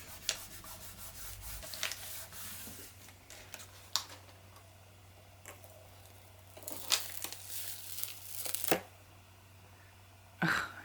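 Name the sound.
paper being folded and smooshed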